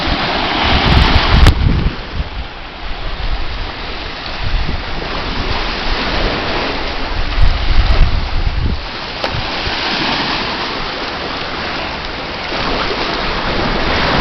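Steady wash of waves and water at a beach by a pier, with wind noise blowing across the microphone, continuous and fairly loud, no voices.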